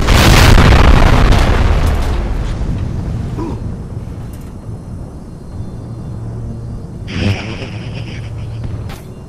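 A homemade rocket blasts off in the video game Halo: a loud, booming burst at the start that fades into a long rumble, with a smaller pop later on.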